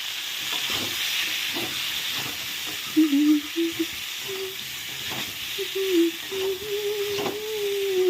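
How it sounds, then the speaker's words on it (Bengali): Diced potatoes fry in a pan for a home-cooked cauliflower dish, a steady hiss and sizzle of oil running throughout, with faint stirring clinks and a few brief tonal squeaks rising above the frying. "আলুগুলো দিয়ে দিলাম একবারে হোক ভাজা।"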